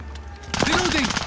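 A PKM machine gun in Modern Warfare fires a short rapid burst that starts abruptly mid-clip, close and loud, while a voice talks over it.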